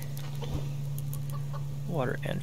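Chickens cluck softly in a farm setting within the survival game Subsistence, a few brief calls over a steady low electrical hum, with a louder burst of clucking near the end.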